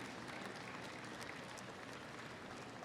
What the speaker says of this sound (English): give them a round of applause and a thank you to what they do.